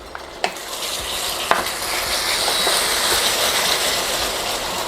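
Mustard being stirred into a simmering KFC-style BBQ sauce over medium heat, a steady bubbling sizzle with soft scraping strokes and a couple of sharp utensil clicks against the pan, close and continuous.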